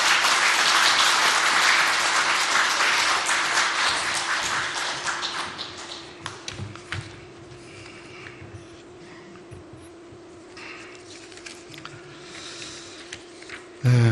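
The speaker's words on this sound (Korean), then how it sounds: "우리 박수로 우리 목사님 모시겠습니다" A church congregation applauds in welcome of a pastor at a Korean Sunday afternoon service. The clapping starts loud and dense, then thins into scattered claps and quiet room noise.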